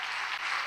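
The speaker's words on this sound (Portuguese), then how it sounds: "Aplauda!" Church congregation applauding during a Portuguese-language Catholic Mass, a steady wash of clapping with no pauses over the short span.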